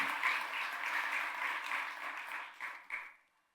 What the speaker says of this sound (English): give them another round of applause for choosing Guilford County